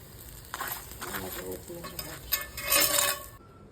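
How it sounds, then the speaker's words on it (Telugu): A chapati roasts with ghee on a hot pan, giving a close sizzle with scraping and turning strokes. The sizzle swells near the end, then cuts off abruptly. "పిల్లల కోసం ఆయిల్ బదులు కొంచెం నెయ్యి వేస్తే కాల్చుతున్నాను"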